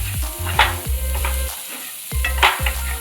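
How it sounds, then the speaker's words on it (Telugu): Chopped onion pieces sizzle steadily in a hot pan while cooking vada podi fry, with soft stirring scrapes and music playing alongside. "ఉల్లిపాయ ముక్కలు వేసేసి వేపాలి"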